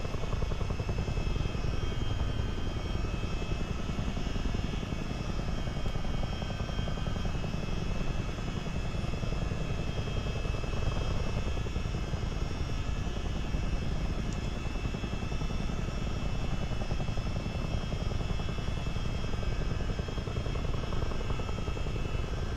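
A CH-47D helicopter in a multiplayer flight game cruising over the Great Lakes, a loud continuous rotor and engine drone that holds steady throughout, with no talking.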